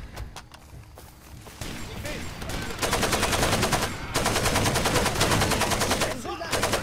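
Sustained automatic gunfire in the video game Far Cry 2 breaks out in bursts, growing louder and denser after the opening, with rapid rattling volleys and brief pauses between them.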